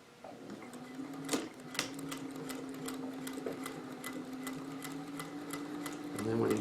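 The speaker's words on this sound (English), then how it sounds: "And then so we're just going to sew back across this." Sewing machine stitching back across a pleated cotton face mask, a close, steady mechanical whir with rapid needle clicks running continuously for several seconds.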